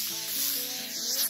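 A short hairspray aerosol hisses continuously at close range, a steady airy rush lasting about a second.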